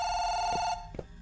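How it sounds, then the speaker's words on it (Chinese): Telephone ringing in a Chinese horror detective video game, a steady electronic ring tone held for most of the moment before cutting off, followed by a couple of soft knocks. "来电话了"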